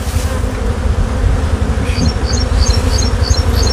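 Honey bees drone and buzz loudly and continuously at a hive, a dense close-up hum with no talking.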